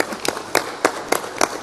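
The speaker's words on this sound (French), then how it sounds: "On va applaudir." Sparse, intermittent clapping at an academic debate in a lecture hall, a few distinct bursts of hand claps spaced irregularly rather than a full ovation, with no talking.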